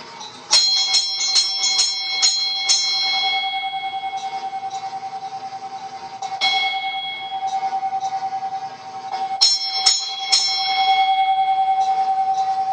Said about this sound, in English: You tell me where this bell should go.